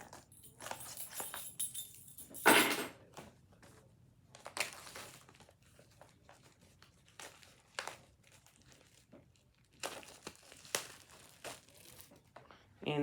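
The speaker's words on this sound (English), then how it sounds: "And it is a Steelbook, and I finally got the plastic off." Plastic wrap is peeled off a Top Gun Maverick Steelbook in irregular crinkling bursts, some sharp and loud, others soft, separated by quiet pauses.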